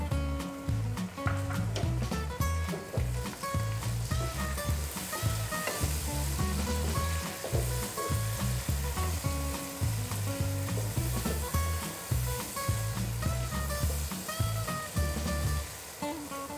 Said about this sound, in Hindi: तो अब हम इसमें डाल देंगे टमाटर और कटी हुई हरी मिर्चें।